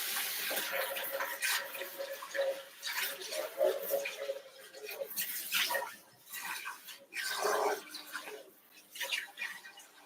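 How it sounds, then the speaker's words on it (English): Tap water runs steadily over mango being rinsed, a close, fluctuating splashy hiss with brief gaps and light knocks as the fruit is turned under the stream. "we just need to rinse these off real quick"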